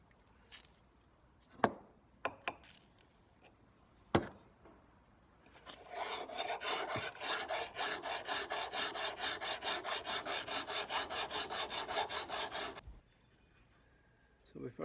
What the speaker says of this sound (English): do a little sharpening. Nice little radius.